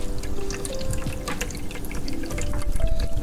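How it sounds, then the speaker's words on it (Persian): An automatic cat water fountain pumps and circulates water through a filter, giving a steady trickling, dripping flow with a faint pump hum, fairly close and continuous. "آب اتوماتیک. این چی کار میکنه؟ آبو پمپ میکنه."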